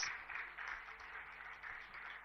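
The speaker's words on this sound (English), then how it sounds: "Louder round of applause" Audience applause at the inauguration of the new Google for Startups space at T-Hub: a steady, soft wash of many hands clapping, fairly distant and quiet, swelling slightly in waves throughout.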